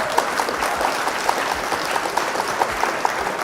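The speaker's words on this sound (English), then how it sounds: "Round of applause for my opponent." Steady applause from a crowd after a game of the Flesh and Blood card game, an even wash of clapping with regular sharper claps standing out throughout, moderately loud and with no talk over it.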